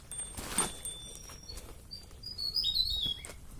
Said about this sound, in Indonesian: Nyanyian burung menyambut kita.